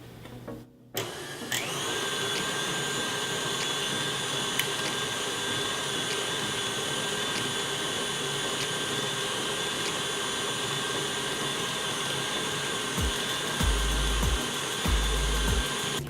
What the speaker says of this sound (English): use my torch lighter, and I'm going to heat up the bowl a little bit